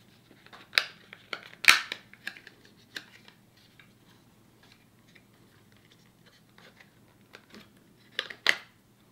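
Plastic lens clicks and snaps as it is worked free from a Smith Wildcat sunglasses frame, short sharp ticks scattered through quiet stretches, with a couple of louder pops near the start and end.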